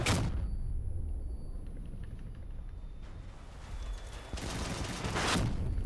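Gunfire from a Thyrsus weapon in the vehicle combat game Crossout, with a loud blast at the start and then heavy rumbling bursts of fire building again toward the end over a constant low battle din.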